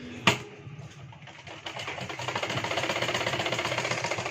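A sewing machine runs steadily while stitching the inner panel of a princess-cut blouse, a rapid, even mechanical rattle that starts after a sharp click and grows slightly louder, heard close up with no talking.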